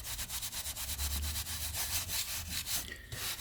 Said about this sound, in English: And I've got my soft shoe brush here.